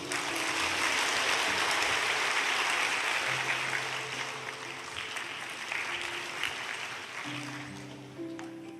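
A church congregation applauds a baptism representative during a Sunday baptism service, sustained crowd clapping that holds steady and gradually tapers, with organ-like tones sounding underneath.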